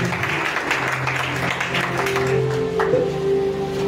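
A church congregation applauding and acclaiming the Lord, steady mixed clapping and voices with a sustained tone running beneath and rising toward the end.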